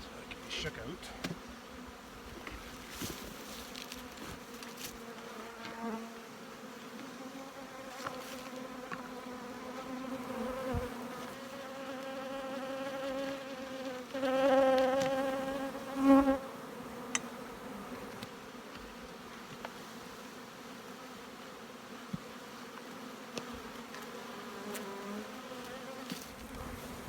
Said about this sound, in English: Box of bees there.